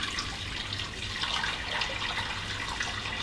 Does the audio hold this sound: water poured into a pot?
yes